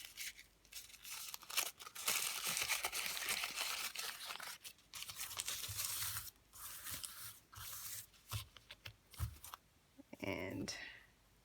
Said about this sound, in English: a bit more scrunching